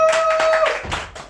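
Audience applause at an eco-guard lottery draw ceremony held for the Bateke Plateaux National Park, a short burst of clapping with a sustained tone running through its first half.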